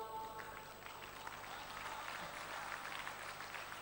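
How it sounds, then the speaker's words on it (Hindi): Audience applause at an evening gathering, a broad continuous wash of many hands clapping together, steady and moderately distant for the whole stretch. "भाई ताली बजाओ तो फिर एक साथ बजाओ सारे लोग"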